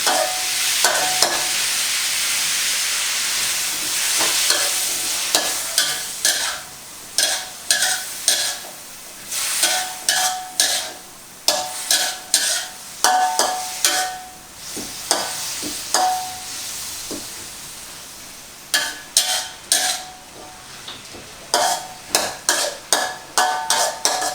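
Kale and canned fish stir-fried in a wok with a splash of the can's rinsing water: loud close sizzling throughout, then quick rhythmic scrapes and clatters of the spatula tossing the greens.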